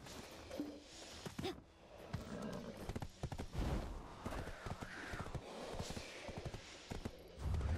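Horse mount hooves in the video game Black Desert, an uneven clip-clop of hoofbeats heard faintly with other game noises, bumps and rustles over it.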